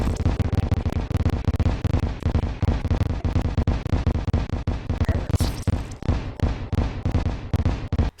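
Rapid, overlapping cannon blasts in the video game Terraria form a dense, continuous barrage of booming reports, loud and close, with a fairly even rapid-fire rhythm throughout.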